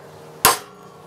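A single sharp hammer strike on a punch marks a 1095 steel knife blade, a close, loud metallic tap with a short ringing decay in a quiet room.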